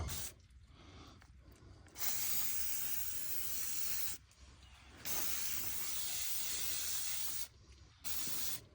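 An aerosol parts cleaner sprayed onto a brake rotor hisses in three long bursts with short gaps between them, close and loud, with no voices.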